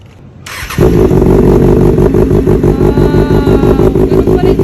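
Ninja motorcycle in yellow-and-black Bumblebee colours starting up and revving loudly up close, with a sharp burst into a throaty, pulsing engine roar and rattle that holds strong to the end.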